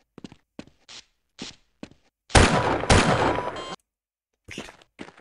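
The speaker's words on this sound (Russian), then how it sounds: "Слышу выстрелы." Gunfire in the video game Half-Life comes as scattered single shots followed by a dense burst of rapid fire, then a few more shots, all fairly close with silent gaps between.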